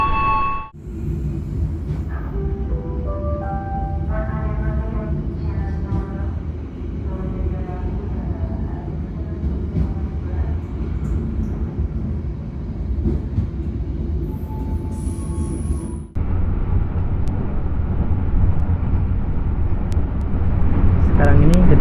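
Interior rumble of the KA Jaka Tingkir economy train, hauled by CC201 number 1 locomotive, running between Cirebon and Gaprupuk: a loud, continuous low roar and rattle of wheels on track, with a brief abrupt shift midway and a voice talking over it early on.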